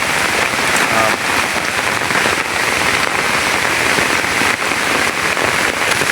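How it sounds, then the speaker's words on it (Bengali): Dense, loud downpour of heavy rain drumming on surfaces, a steady roaring hiss with irregular spattering impacts throughout. "এইবার বৃষ্টিটা অনেক পড়া বেশি নামতেছে"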